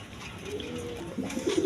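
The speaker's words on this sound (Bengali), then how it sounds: "এখানে এক পেয়ার বাঞ্জা কবুতর আছে" A breeding pair of pigeons coos nearby, a low murmuring call swelling into a clearer rolling coo at the end of the short stretch.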